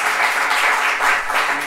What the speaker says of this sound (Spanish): Nos autoaplaudimos